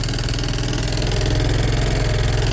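A Piaggio Fly 100cc scooter engine idles steadily up close, a continuous low putter with a slight rattle throughout and no voices.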